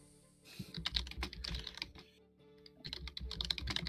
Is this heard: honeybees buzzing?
no